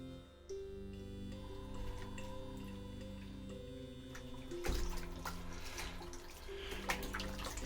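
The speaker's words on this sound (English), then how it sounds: "So I'm washing the canvas face down" Running water washing over a cyanotype-printed canvas, a steady faucet stream with splashing that grows louder and fuller partway through, close and continuous.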